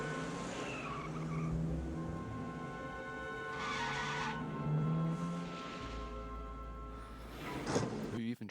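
A car skids with squealing tires while its engine drives past, heard from a moderate distance as people talk over it throughout.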